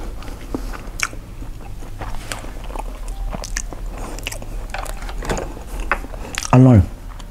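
Soy-sauce pickled seafood such as salmon, shrimp and crab is eaten close up, with repeated moist bites and chewing. A short voiced sound comes near the end.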